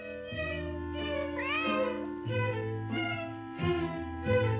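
A cat meows repeatedly, several drawn-out, clear cries in a row, close and alone against a quiet background.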